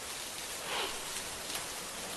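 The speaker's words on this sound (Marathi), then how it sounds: "नाशिक शहरात काल मध्यरात्रीपासून मुसळधार पाऊस पडतोय" Heavy rain pours down over the city of Nashik during a night-long downpour, a steady dense hiss of falling water without pause or voices.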